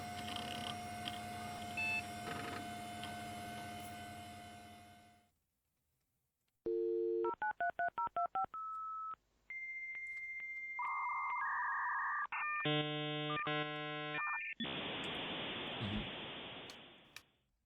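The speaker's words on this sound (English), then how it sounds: "We're still in dial-up." Dial-up modem connecting in a video game: a dial tone, rapid touch-tone dialing, then warbling handshake tones, screeches and a final burst of hissing static, loud and alone after a noisy stretch and brief silence.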